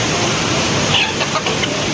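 A wild Philippine native chicken, a brightly coloured labuyo, gives a single brief cluck close by, set against steady outdoor background noise.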